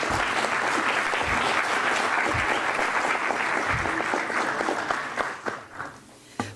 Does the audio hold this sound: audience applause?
yes